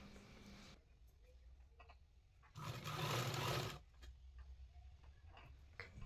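A sewing machine stitches a gown seam in a single loud burst of about a second, between quiet stretches that carry faint ticks and handling noises.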